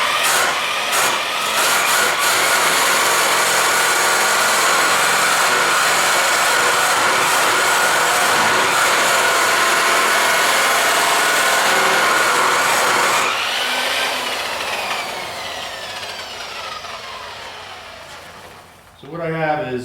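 A buffing wheel is roughed up against a rake while restoring Ford factory riveted rims, giving a loud, steady, harsh abrasive whir that shifts and eases toward the end as the wheel spins down.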